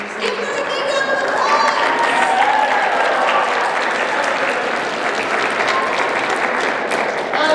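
A crowd at a Sailor Moon fan convention panel claps and cheers for a trivia winner, steady loud applause throughout with excited voices and chatter layered on top.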